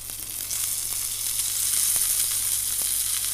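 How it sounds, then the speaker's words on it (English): Steak searing skin-side in a hot pan, a steady close hiss of sizzling fat that stays loud and even for a few seconds with faint crackles. "Another little sear on its skin."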